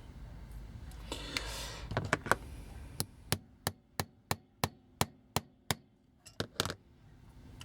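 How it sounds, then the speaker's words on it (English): A hammer taps sharply on a hollow plastic Transformers G1 toy, a Takara Stunticon Breakdown, with scattered knocks at first, then an even run of about ten crisp taps, then a few more. The tapping is close and faint. "so let's tap it with the hammer"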